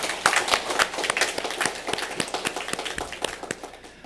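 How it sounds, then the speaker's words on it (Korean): A church congregation claps in a lively, roughly rhythmic burst, many hands striking together with sharp, distinct hits that gradually thin and fade toward the end. "우리 하나님께 감사와 영광의 박수 올려드리겠습니다"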